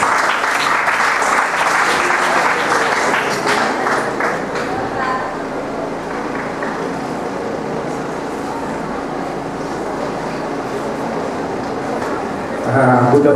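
Conference audience at an urban redevelopment event for Tacloban City breaks into loud, dense applause that gradually thins and fades, ending with a brief bump of sound.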